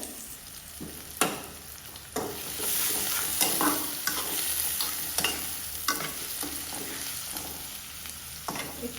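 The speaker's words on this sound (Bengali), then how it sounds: "পেঁয়াজটাকে একটু ব্রাউনি করে ভেজে নিতে হবে" Chopped onions frying until browned in oil, a steady sizzling hiss punctuated by repeated sharp scraping strokes of stirring spread across the whole stretch.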